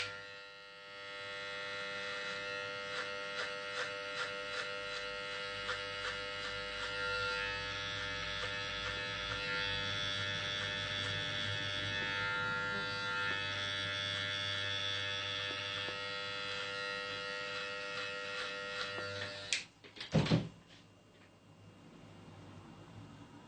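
An electric hair clipper cuts hair during a step-by-step fade haircut, buzzing steadily and loudly close by for about twenty seconds before a sharp clatter and a short rough burst.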